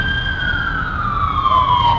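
An ambulance siren wails loudly and steadily, its pitch sliding gradually downward as it passes a motorcycle meet-up.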